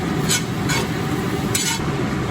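Cumin, curry leaves and urad dal fry in ghee with a loud, close, continuous sizzle, broken by a few brief bright bursts of crackle.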